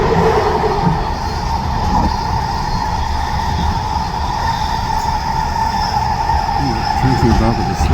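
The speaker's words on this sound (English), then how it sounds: "just on my eastbound train trip" An eastbound SkyTrain runs along its rails, a loud, continuous rumble with a steady tonal whine that holds evenly throughout.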